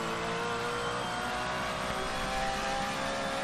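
A race car engine drones steadily in Project Motor Racing at Sebring, a continuous, loud, buzzing tone that holds its pitch through the whole stretch, with no talking.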